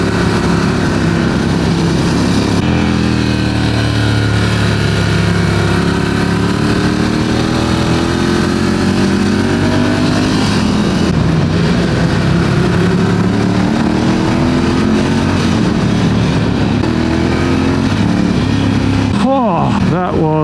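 A motorcycle engine drones steadily throughout on the Stelvio Pass, loud and close, its pitch rising and falling as it accelerates and shifts gears.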